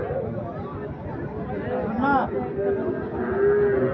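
A Sahiwal bull lows once amid the murmur of a busy cattle market at Ambari haat, with people talking close by.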